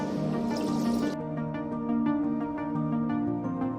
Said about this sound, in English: Start the bubbles.